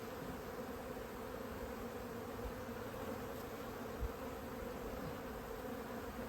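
A steady, even drone of honey bees buzzing around an open hive during a late winter inspection, continuous and moderately close with no voices over it.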